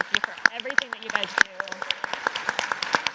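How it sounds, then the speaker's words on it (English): A modest round of applause at a forum gathering, scattered individual claps with sharp, distinct hits rather than a dense roar, and a voice heard briefly underneath. "I just want to give them a round of applause."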